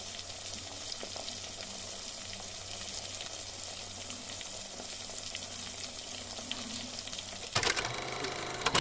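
Fish frying in a wok of boiling oil, giving a constant dense crackling sizzle near at hand, with a sudden louder burst of spatter near the end and no speech.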